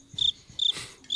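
Crickets chirp in short, sharp, high-pitched bursts, three quick trills spaced evenly across a brief moment, clear and fairly close with no talk, like a comic silence sound effect.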